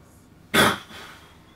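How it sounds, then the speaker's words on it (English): One sharp, close cough rings out, then fades into a brief breathy tail against a quiet background. "people are still going to hear me cough"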